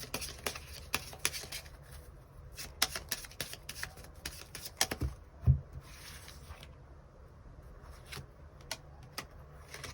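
Tarot cards are shuffled and drawn by hand, making soft, crisp flicks and slaps in irregular clusters, faint and close, with brief quiet gaps between handlings.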